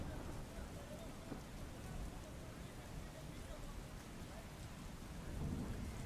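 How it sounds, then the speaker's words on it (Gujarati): Heavy rain pours down near Antroli, Talod, Sabarkantha, Gujarat, in a constant, dense hiss, with a low rumble underneath and faint voices in the background. "ભારે વરસાદ વરસી રહ્યો છે"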